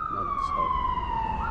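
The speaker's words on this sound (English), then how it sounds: "Oh, ambulance." An ambulance siren wails steadily on a public road, its tone holding constant and fairly loud across the whole stretch, with traffic rumble and background noise beneath.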